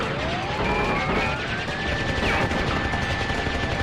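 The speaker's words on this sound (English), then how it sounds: "there's just a lot of gunfire going on. Alright, there goes his machine guns." Dense, continuous machine-gun fire from a boss battle in Crash Bandicoot 3: Warped, loud and sustained, with rapid bursts overlapping throughout along with whooshing game effects.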